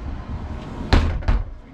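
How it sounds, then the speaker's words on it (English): A sliding barn door in an RV bathroom rolls and thumps shut, giving two sharp knocks a short moment apart against a low background hum, close by and fairly loud. "this also is a sliding barn door"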